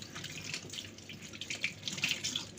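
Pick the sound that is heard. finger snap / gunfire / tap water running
tap water running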